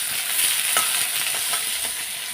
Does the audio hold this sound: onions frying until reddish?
yes